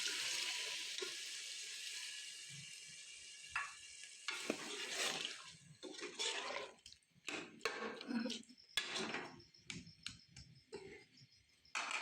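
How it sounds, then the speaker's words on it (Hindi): Water pours from a tap into a cooking pot of cabbage and potato curry, a steady rushing stream for several seconds, followed by intermittent splashes, stirring and clattering sounds at close range. "तो थोड़ा सा पानी डालेंगे।"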